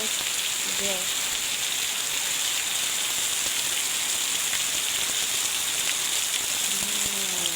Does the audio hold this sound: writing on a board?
no